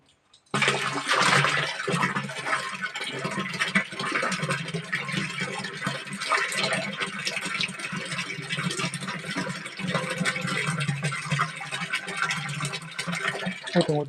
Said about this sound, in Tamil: இப்போ இதெல்லாம் மெதுவாக ஊற்றுங்க. தெரிக்கும்.